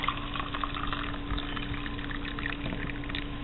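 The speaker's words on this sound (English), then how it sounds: "So now I'm going to pour this in here." Steeped tea made from dehydrated foods is poured into a container, a steady liquid splash over a constant low hum, with no talk.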